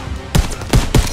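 Gunfire rings out in a Call of Duty WW2 D-Day battle: three loud, sharp shots or short bursts spaced roughly evenly apart over a quiet background.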